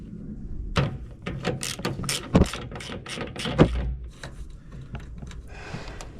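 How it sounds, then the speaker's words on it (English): Ratchet wrench loosening bolts on a tractor loader during a repair, with a rapid series of clicking and ratcheting bursts close up, some louder sharp knocks and metal rubbing between them. "so I can get these bolts loosened"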